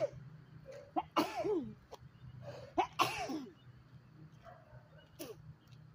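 Sharp sneezes set off by fruit peel, a few loud bursts with a woman's throaty sounds in between, heard up close in a quiet room.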